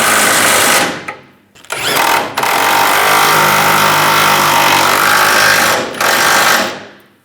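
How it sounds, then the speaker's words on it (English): A power tool, likely an impact wrench, drives nuts onto the rear bumper impact absorber of a 2007-2013 Chevrolet Silverado 1500, loud sustained rattling bursts close up with short gaps between them. "Now tighten these down."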